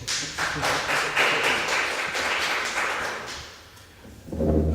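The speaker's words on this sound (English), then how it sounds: "Let's have a round of applause." Scattered clapping from a small symposium audience, fairly close, fading out before a brief louder sound at the end.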